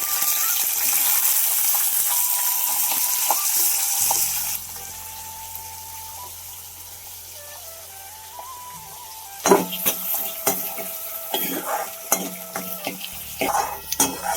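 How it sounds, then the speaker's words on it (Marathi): Chopped onion hitting a hot pan partway through, after a running water sound, then a soft sizzle with intermittent stirring scrapes and clatters from a spoon, moderately close. "कांद्याला असं भाजून घ्यायचा लाल रंग येऊ"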